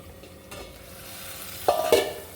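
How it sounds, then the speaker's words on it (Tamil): Chicken biryani being stirred in a pan, a low sizzle running steadily underneath until two short, louder scraping strokes near the end. "நைஸாக கிண்டி விட்டுக்கோங்க."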